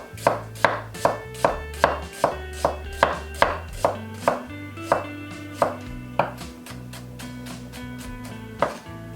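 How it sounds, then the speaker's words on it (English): An onion being thinly sliced with a knife on a cutting board: rapid, regular crisp chops in a steady rhythm, close and clear, slowing to a few scattered cuts toward the end. "So let's begin with the onion. Slice, thinly slice."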